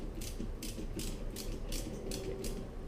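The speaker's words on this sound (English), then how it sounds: "you're going to disconnect the hose clamp, or loosen the hose clamp connected to the throttle body" A flathead screwdriver loosens the hose clamp on the throttle body of a Ford Fusion during a cold air intake install. About six quick, close clicking, ratcheting bursts come in a steady rhythm over a low background hum.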